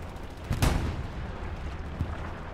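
Tank cannon fire in Hell Let Loose, a distant heavy thump followed by a second fainter shot, with low rumbling battlefield ambience between them.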